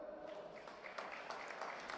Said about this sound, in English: Can we get a big round of applause for Nicolo?